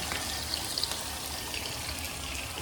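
Tempeh frying in hot oil, a steady dense sizzle with small crackles and pops running throughout, close and continuous with no voices.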